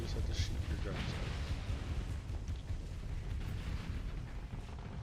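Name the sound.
spaceship guns firing in video game Starsector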